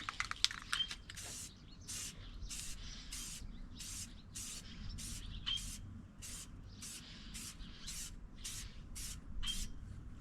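Spray can misting a first coat onto a Nissan 350Z headlight, about a dozen short, even hissing bursts in a steady rhythm, close up, over a low constant background rumble with no talking.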